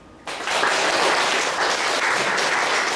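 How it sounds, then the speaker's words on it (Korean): Church congregation at a Sunday service bursts into applause for a newly introduced ministry worker, loud sustained clapping starting abruptly after a brief quiet moment and holding steady to the end. "여러분 박수로 크게 격려해 주십시오."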